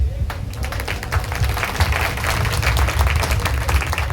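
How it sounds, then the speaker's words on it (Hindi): Crowd applause at a large drivers' welfare protest rally in Azamgarh, many hands clapping in a dense, continuous, fairly loud patter with a low rumble of the gathering beneath. "आप लोग के लिए एक बार ताली हो जाए।"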